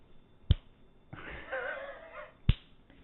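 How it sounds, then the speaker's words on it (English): Two sharp, isolated finger snaps about two seconds apart, close and crisp, with a brief burst of muffled movement and rustle between them and no talking. "Finger snap."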